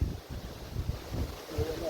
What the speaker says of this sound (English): The wind is really howling now.